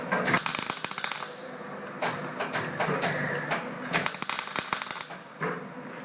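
A MIG welding set sputtering and crackling erratically, with irregular bursts of sharp popping and spitting from a wire setting that is off, heard up close with no talk.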